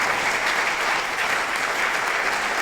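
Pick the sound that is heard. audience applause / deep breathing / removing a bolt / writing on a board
audience applause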